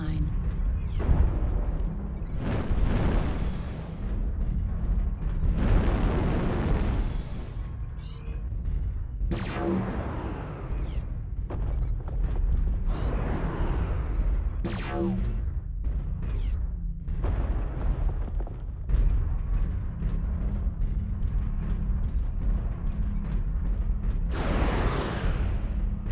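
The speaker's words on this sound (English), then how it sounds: "Artillery strike online." Artillery strike explosions in a mech shooter game land as a rapid series of heavy booms and roaring bursts, loud and close, repeating through the stretch with brief gaps between blasts.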